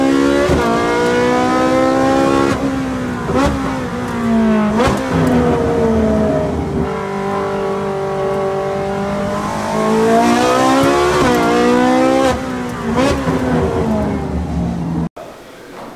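A Ferrari 458 Challenge Evolution race car with a naturally aspirated 4.5-litre V8 revs loudly and continuously, its pitch climbing and dropping through repeated throttle blips, close up and dominant throughout.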